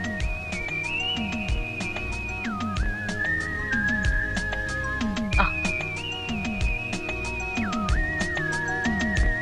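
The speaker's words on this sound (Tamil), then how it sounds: "ஒரு ஐயா மேலிருந்து வந்து விசில் அடிச்சாரு" A man whistles from somewhere above in a comedy film scene, a long sustained tone that dips and rises in pitch, heard over a busy backdrop of other sounds and rhythmic thumps.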